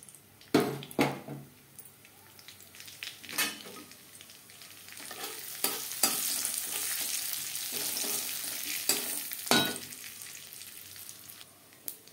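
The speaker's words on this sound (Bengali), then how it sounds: "যেই কড়াইতে করে মাছ ভেজেছিলাম, সেই তেলে দিয়ে দেব একটা তেজপাতা" A bay leaf and whole cumin frying in leftover fish-frying oil in a kadai, a loud close sizzle with repeated scraping stirs and knocks, swelling in the middle, no voices.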